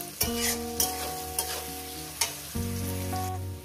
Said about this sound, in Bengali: এটাকে মিনিট দুই ধরে ভেজে নেব।